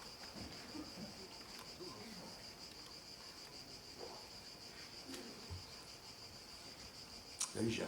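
Cicadas or similar insects shrill in a steady high-pitched drone that runs the whole time alongside distant outdoor ambience, fairly faint, with a brief knock near the end.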